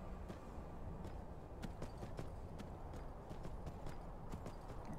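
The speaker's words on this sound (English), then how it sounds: "we'll just leave the horses here" Horse hooves clip-clop steadily in the video game Skyrim, a quick irregular run of sharp hoofbeats over a faint, wide ambient wash.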